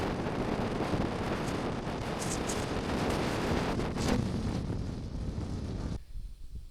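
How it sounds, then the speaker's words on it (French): Strong, steady mountain wind at Pic de Piméné, France, roars and buffets the microphone, a constant dense rush that cuts off abruptly near the end. "il y a tellement de vent que là, c'est trop dangereux"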